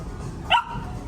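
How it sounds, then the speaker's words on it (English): A puppy gives a single short, sharp bark over faint background noise while out shopping in a store. "Puppy."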